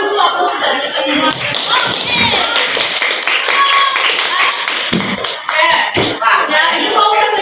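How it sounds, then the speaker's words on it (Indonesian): Students and teachers applaud at a school project event, with dense, continuous clapping from a crowd throughout. Scattered voices and thumps mix into the clapping. "kita berikan dulu aplaus kepada kita semua"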